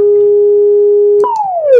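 A pure sine tone from a Pure Data generator holds steady, then jumps up and glides smoothly downward in pitch over a fraction of a second, loud and clean with no voices.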